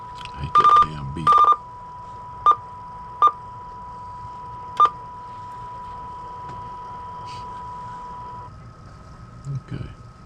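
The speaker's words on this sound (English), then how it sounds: "I hate that damn beep." Several short electronic beeps from a Stryker SR447HPC2 radio sound over a steady tone and low engine hum, with two longer warbling beeps at the start.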